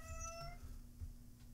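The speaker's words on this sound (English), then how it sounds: "He's meowing it up." A pet cat gives a single short, faint meow at the start, followed by quiet indoor room tone.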